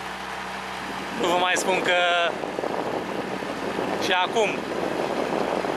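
A boat engine drones steadily on the Borcea river, close and constant, while someone talks over it at moments.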